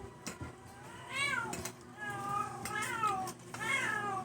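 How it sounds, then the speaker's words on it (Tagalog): A cat meows three times in drawn-out, rising and falling cries spaced a second or so apart, fairly close, over a low background murmur. "Yung pusa."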